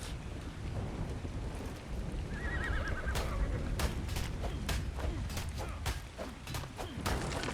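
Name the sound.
horse neighing in the video game ARK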